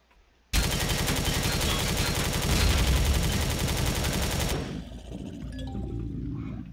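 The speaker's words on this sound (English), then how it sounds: "that was another 2 shots from a laser dude" Laser gunfire in a video game, a loud rapid stream of repeated shots lasting about four seconds before cutting off to quieter background clicks and tones.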